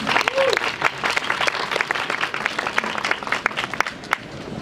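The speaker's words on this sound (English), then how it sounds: "A round of applause, please." A round of applause for a guest speaker at a climate conference gathering, a modest crowd clapping with distinct individual hand claps standing out, uneven and fairly close, with faint voices briefly audible underneath.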